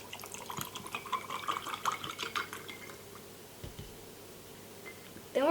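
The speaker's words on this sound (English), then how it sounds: "Then we're going to pour in some soda." Lemon lime soda poured over ice cubes in a glass, a fizzing, trickling pour with faint clinks of ice, steady for a few seconds and then tapering off before a brief sharper clatter at the end.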